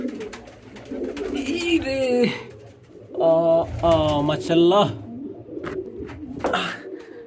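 Pigeons coo in soft, wavering bursts close by, with a person speaking briefly over them.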